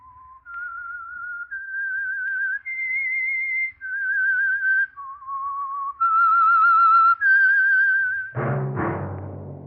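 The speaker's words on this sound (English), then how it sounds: "That whistle is your signal for the Signal Oil Program, The Whistler." A solo whistled melody, the theme of the radio show The Whistler, rises and falls in clear sustained notes, ending with a brief burst of orchestral sound.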